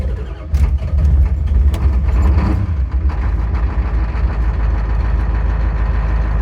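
1989 Ford F-350 with a 7.3L IDI diesel engine, cranking and starting during glow plug system troubleshooting. A loud, steady, low diesel rumble carries on throughout at close range.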